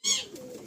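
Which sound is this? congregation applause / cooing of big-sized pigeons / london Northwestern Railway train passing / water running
cooing of big-sized pigeons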